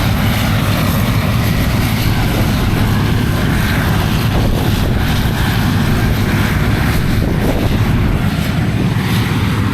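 A 1990 tractor working at a silage day in West Cork, Ireland, its engine a loud, continuous droning rumble close to the microphone with heavy wind buffeting throughout.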